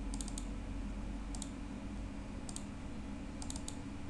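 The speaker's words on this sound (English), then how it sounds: "Actually, we need to double click the area." A computer mouse gives crisp, close double clicks, four quick pairs spaced about a second apart over a steady low room hum.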